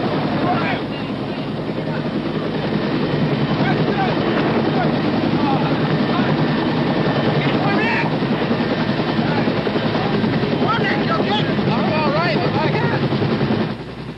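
Medevac helicopter taking off under fire in Vietnam, a loud continuous rotor and engine roar with wind buffeting throughout, holding steady for over ten seconds.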